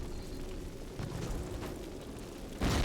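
Grenade blast in Call of Duty, a broad rumbling explosion with dense low-end energy sustained through the clip and a sharper loud burst near the end.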